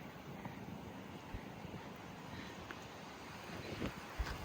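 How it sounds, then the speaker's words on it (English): Wind gusts steadily across a desert campground at Lost Dutchman in Arizona, making a faint, continuous rushing roar with buffeting on the microphone and an occasional small knock. "Whew, it's windy."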